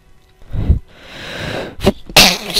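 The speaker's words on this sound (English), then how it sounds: "Sneeze, bless me." A single loud, close sneeze with a sharp breathy burst, preceded by a sniffing inhale and followed by a hissy exhale, with no talking over it.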